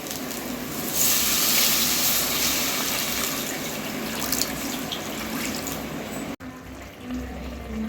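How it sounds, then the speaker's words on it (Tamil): Water streams steadily into a pot of potato curry nearby, a continuous splashing hiss that stops briefly near the end before a quieter trickle resumes. "இப்போ குழம்புக்கு தேவையான அளவு தண்ணி சேர்த்துக்கிறேன்"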